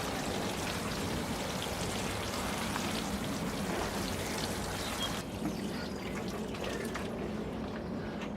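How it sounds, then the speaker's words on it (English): Water poured from a watering can over seeds in an aquaponics grow bed, a steady rain-like patter and splash that carries on evenly and cuts thinner near the end. "we just give it a quick water with watering can, just to make sure that there's definitely completely saturated"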